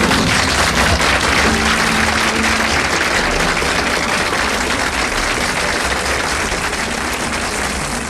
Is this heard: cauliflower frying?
no